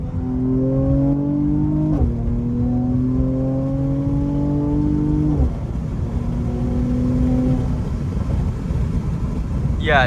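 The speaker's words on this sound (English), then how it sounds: "Let's hear a little downshift." A 2019 Mercedes C43 AMG engine heard from inside the car drops through gears in a series of stepped downshifts. Each shift brings a rise and fall in revs that stays loud and continuous throughout.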